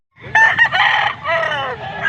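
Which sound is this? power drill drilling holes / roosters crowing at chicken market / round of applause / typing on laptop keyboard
roosters crowing at chicken market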